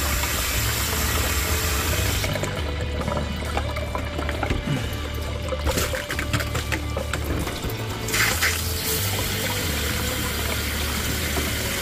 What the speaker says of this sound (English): running water again